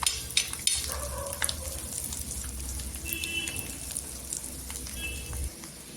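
Eggs fry in oil in a pan with a soft, steady sizzle and a few clinks of a utensil, fairly quiet and close.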